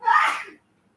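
A single sharp sneeze, loud and close, bursting out and fading within about half a second, followed by silence.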